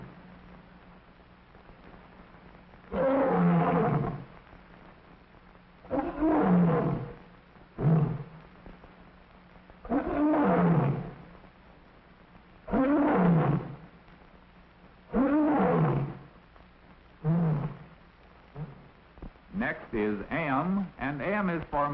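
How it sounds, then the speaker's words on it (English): Series of deep, loud African lion roars at a zoo's African plains exhibit, about seven bursts spaced a few seconds apart, each swelling and fading, with a rapid run of grunting calls at the end. "They want to hear the lions roar."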